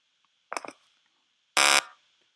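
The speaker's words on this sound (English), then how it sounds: "we heard a beeping sound" Two short electronic beeps in a Unity scene as a falling cube hits the ground, a brief double chirp followed a second later by a louder, longer buzzy tone, with no talk.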